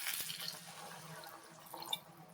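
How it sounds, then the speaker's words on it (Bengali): A little water is poured into a curry on the stove during home cooking, giving a soft, brief splash and trickle near the start, then faint drips and clinks close by with no talk. "একটু জল ঢেলে দিলেই।"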